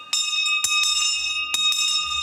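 Old War Department fire warden's handbell rung in a few quick, bright strokes, each leaving a long, loud, ringing metallic tone.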